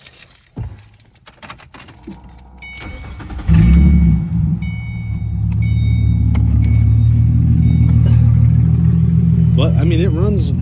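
A Ford Mustang with no exhaust fitted cranks after some jangling keys, catches at about the three-and-a-half-second mark and settles into a loud, rough, close idle that swells toward revs near the end.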